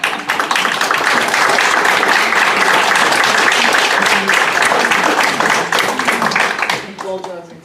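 Applause at a school board of education meeting: a room full of people clapping steadily and loudly for about seven seconds before it tapers off.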